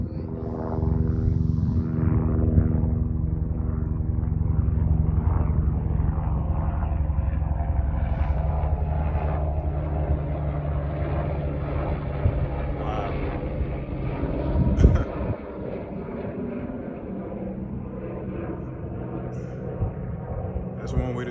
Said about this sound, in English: who knew they did helicopter tours?